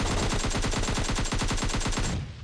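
Gunfire in the video game PUBG Mobile: a loud, rapid, evenly paced burst of automatic fire running for about two seconds before cutting off, close and alone.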